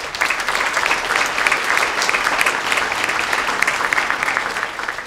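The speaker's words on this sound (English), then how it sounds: "If we could just give CEFCO a big round of applause." An audience at an opening session of an event gives a big round of applause, loud steady clapping from many hands that fills the whole stretch without a break.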